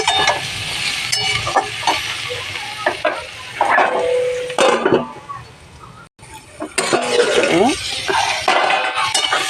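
Spices with turmeric powder frying and being stirred in a pan, close sizzling with scraping and clinks of a utensil against the pan, a short pause, then more stirring; someone talks over parts of it.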